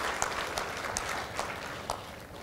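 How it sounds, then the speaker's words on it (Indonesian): A church congregation at a GBI Ecclesia service claps for God: a continuous wash of hand claps across a large room with a few sharper individual claps near the front. "Beri tepuk tangan yang meriah buat Tuhan."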